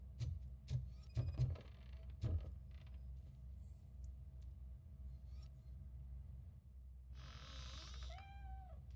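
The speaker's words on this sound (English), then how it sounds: "The cat is fine." A cat gives a short meow late in the RoboCop Rogue City video game, after a low mechanical rumble and a few metallic clinks, faint against the background hum.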